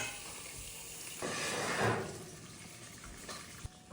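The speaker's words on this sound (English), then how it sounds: "Look at that bacon. Slowly frying away." Soft, steady sizzle of bacon frying on a wood cookstove with a brief louder surge of hissing midway and a small knock near the end.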